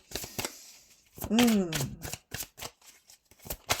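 Tarot-style cards are shuffled and drawn for a card reading, with rapid riffling bursts and crisp slaps from a handled deck, close and fairly loud. A voice briefly interrupts partway through.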